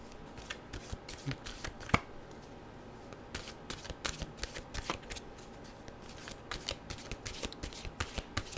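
A deck of mantra cards is shuffled close by, with repeated soft riffling bursts and light snaps in an irregular rhythm, quiet and without talk.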